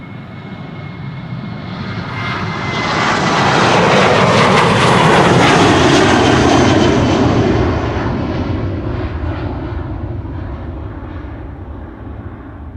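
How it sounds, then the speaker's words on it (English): A KLM passenger jet departing Amsterdam Schiphol on a flight to Birmingham, its engine roar building to a loud peak in the middle and easing off gradually afterward, heard alone. "this is KLM flight 1041 to Birmingham"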